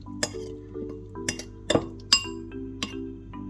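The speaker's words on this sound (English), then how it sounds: "Just going to give that a mix so they're covered in the sauce as well" Utensil clinking against a pot while stirring tomatoes into a cheesy orzotto sauce, several sharp close metallic taps over a low steady hum, no talking.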